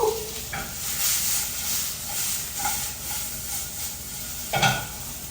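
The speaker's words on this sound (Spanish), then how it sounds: "Le ponemos salecita a las papas porque ya están cocidas, así que nomás las vamos a dorar." Already-cooked potatoes browning in a frying pan give a steady, close hiss and sizzle, with a few brief stirring scrapes and clatters against the pan.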